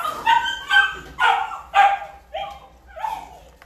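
Great Pyrenees puppies at an animal shelter give a run of about six close, loud barks and yips in a steady rhythm, with no talking over them.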